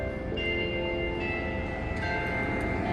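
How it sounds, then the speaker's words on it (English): Chimes from a Methodist church bell ring out at a distance, sustained melodic tones over steady outdoor background noise. "we're enjoying the sounds of the chimes coming from the Methodist church"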